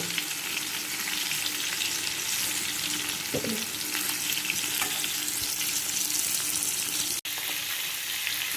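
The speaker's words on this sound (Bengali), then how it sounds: "এই যে মাছের মাথা ভাজা হচ্ছে" A fish head fries in hot oil in a pan, giving a steady, dense sizzle and crackle throughout, with a sharp click or clatter near the end.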